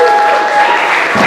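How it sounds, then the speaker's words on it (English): Loud, dense applause from a late-night show audience, close and continuous for the whole moment with a few voices mixed in. "Clap it up for yourselves."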